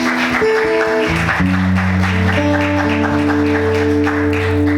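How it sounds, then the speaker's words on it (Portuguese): Applause from a church congregation honoring the Lord, a steady wash of clapping running beneath sustained worship keyboard chords throughout. "Vamos aplaudir o Senhor"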